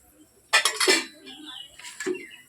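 Eggplant stirred into a curry pot, then a lid set on: a burst of metal spoon clanks and pot rattles, a pause, then a final clink, close and clear.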